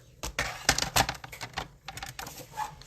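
Patterned cardstock printed with tiny flowers being cut down to size for a handmade card, giving a quick series of sharp, close snipping and crisp paper-handling clicks in an irregular rhythm with no talking.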